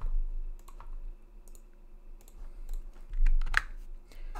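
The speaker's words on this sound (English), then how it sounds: "Intense typing." Computer keys clatter in quick irregular bursts, close and fairly quiet, with scattered sharp clicks and no talking over them.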